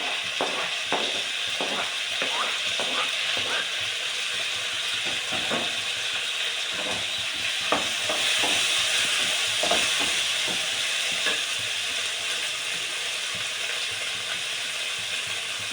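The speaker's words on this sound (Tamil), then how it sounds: "இது தக்காளி நல்லா வதங்கட்டும்." Chopped tomatoes fry in a pan for prawn thokku, a steady close sizzle with scattered scraping taps of a spoon stirring through it and no voices.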